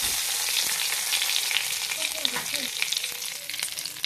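Dried red chili and two or three bay leaves sizzle in hot oil in a kadai, a loud continuous frying hiss with faint crackles and pops, close up and without talk.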